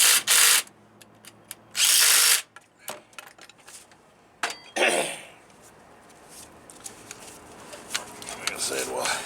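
An impact gun works the pinion seal nut on a front drive axle in two loud, short rattling bursts, followed by lighter clinks of tools while someone talks.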